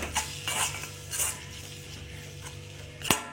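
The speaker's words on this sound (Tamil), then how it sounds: "நல்லா நம்ம இப்படி கிண்டி கொடுத்துக்கலாம்." Food being stirred in a cooking pot during a home lunch prep, a few scraping, clinking strokes of a spoon against the pot over a low background hum, ending in a sharper metallic knock.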